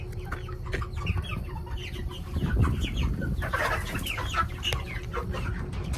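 A crowd of chickens loaded in a trailer for transport clucks and squawks nearby over a low rumbling background, with calls overlapping throughout.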